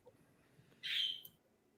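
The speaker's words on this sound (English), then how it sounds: "Yeah, damn birds." A single bird call behind a live online chat, one short whistled note at moderate distance, fairly faint over quiet background noise.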